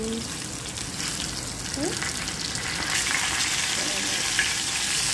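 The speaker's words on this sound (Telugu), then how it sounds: "ఇదిగో చికెన్ ఫ్రై చేస్తున్నాను" Andhra-style chicken fries in a pan with a continuous, fairly loud bubbling sizzle that builds slightly over a few seconds, plus a few faint background tones and no clear speech.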